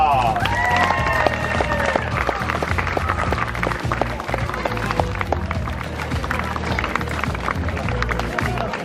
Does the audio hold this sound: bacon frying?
no